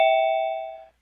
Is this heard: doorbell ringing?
yes